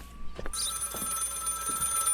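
An office telephone rings with a bright, continuous bell tone in the police inspection game Contraband Police, with short knocks and clunks underneath.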